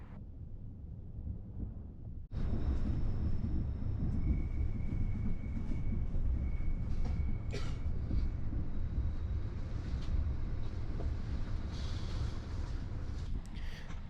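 The Caledonian Sleeper train comes into Carstairs station, heard from on board as a deep, steady rumble with wind rush that starts abruptly and continues with faint squeals and knocks. No one speaks.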